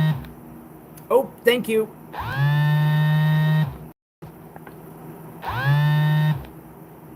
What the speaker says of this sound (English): Actually, it was one of my alarms.